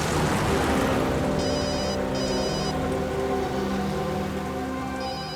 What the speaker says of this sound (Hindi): दयाबेन का फोन